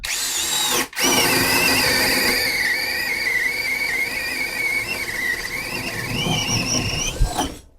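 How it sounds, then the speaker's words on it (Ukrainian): Grosser GCD 16V 42HM cordless drill boring through 45 mm thick ash wood, a loud close whining motor with a brief stop near the start, then continuous strained drilling that shifts pitch under load before cutting off. "ясінь 45 мм товщина, пробуємо сверліти."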